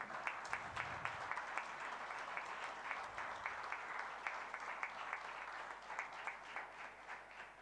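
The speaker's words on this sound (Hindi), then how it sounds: "जोरदार तालियां।" Loud, steady applause from an audience at a yoga institute's foundation day ceremony, dense clapping sustained evenly from start to finish with no talk over it.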